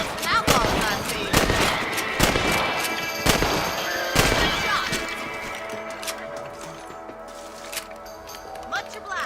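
Gunshots in Red Dead Redemption as rabbits are hunted: several loud, sharp cracks in quick succession in the first few seconds, then sparser, quieter shots, with voices talking in the background.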